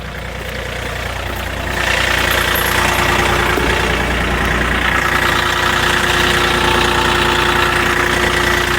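A tractor engine idles during pumpkin planting, then revs up after a couple of seconds into a loud, steady chugging rumble that continues close by.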